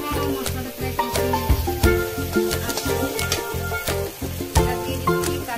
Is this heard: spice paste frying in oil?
yes